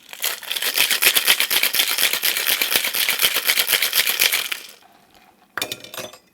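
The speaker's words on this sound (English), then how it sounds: "Ice and shake." Ice rattles hard and fast in a cocktail shaker while a rum cocktail is mixed: dense, rhythmic clatter for about five seconds, then a pause and a short final rattle.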